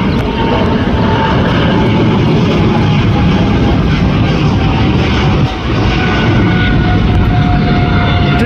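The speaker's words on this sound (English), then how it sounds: "777-200 going to Dallas" An American Airlines Boeing 777-200 departing LAX for Dallas roars overhead, a loud, steady, broadband jet engine rumble that fills the whole stretch without fading.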